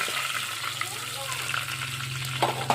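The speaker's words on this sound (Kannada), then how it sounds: "ಬೆಳ್ಳುಳ್ಳಿ ಇಟ್ಕೊಂಡಿನಿ ಅದಕ್ಕೆ ಇವಾಗ ಚೆಂದಾಗಿ ಎಣ್ಣೆಗ ಕೆಂಪಾಗಿ ಇದು ಮಾಡ್ಕೋಬೇಕು ರೀ ಬೆಳ್ಳುಳ್ಳಿ ಕೆಂಪಗಾಗಬೇಕಲ್ಲ ರೀ" Garlic sizzles and fries steadily in hot oil for palak garagat, a constant crackling hiss with a low hum underneath, loud and close with no talking.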